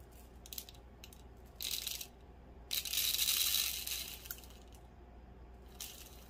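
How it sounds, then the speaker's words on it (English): Dry rice pours into a fabric gnome body in several short hissing, rattling bursts, the longest stream in the middle, with quiet gaps between pours. "we're gonna take and try to pour in some rice"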